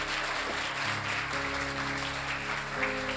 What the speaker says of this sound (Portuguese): Então aplaude o Senhor com muita força.